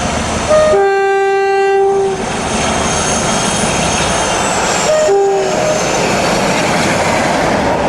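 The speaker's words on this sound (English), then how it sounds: "47437 sounds uncannily like a 57 at Magor on a short steel trip in June 1993." British Rail Class 47 diesel locomotive 47437 working a short steel train at Magor in June 1993, passing with a loud sustained engine roar and two long horn blasts, the second shorter, with no talk.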